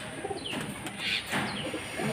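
Pigeons coo softly nearby in low, rolling bursts, with a few higher chirps and some fluttering in the background.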